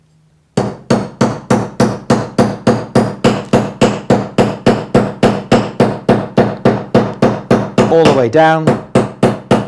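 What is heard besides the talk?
creasing hammer tapping folded copper edge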